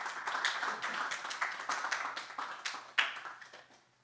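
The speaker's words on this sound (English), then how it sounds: "Just a round of applause for her." Scattered, fairly light clapping from a small audience at a language colloquium on multilingualism, welcoming the head of the house; the claps are irregular and moderately close, with one sharper clap standing out before the sound fades away.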